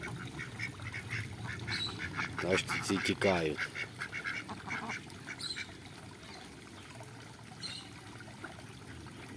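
Ducks and ducklings quack in a short loud burst near the start, then softer calls over gentle water and outdoor ambience, with a person speaking briefly.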